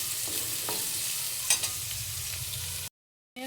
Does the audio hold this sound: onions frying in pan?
yes